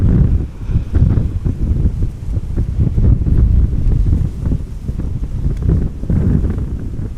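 Strong crosswind buffeting an outdoor microphone at Amsterdam Schiphol Airport, a loud continuous low rumble with gusty surges that rise and fall throughout, and no voices.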